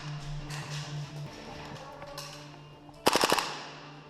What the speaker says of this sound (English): a few well-placed shots within the bushes can usually take them out